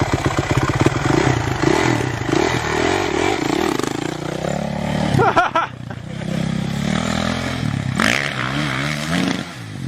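A motocross bike's engine revs up under the rider's throttle, loud and close, with a rough clattering mechanical texture and surges of acceleration, including a sharp burst partway through.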